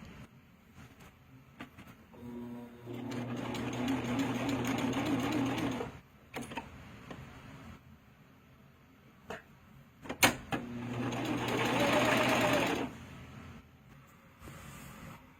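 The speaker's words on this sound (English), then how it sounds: "now I'm going to use my serger and I'm going to sew these edges together" A serger stitches knit elastic edges together in two steady, whirring bursts of several seconds each, separated by a pause with small handling clicks.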